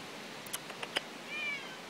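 A single short meow from a cat, clear and fairly close, preceded by a few faint clicks against quiet background noise.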